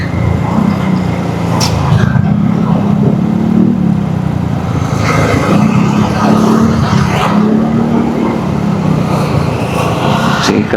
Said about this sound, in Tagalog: Ay bulirot kang maingana nga mga tambutso at kasaba.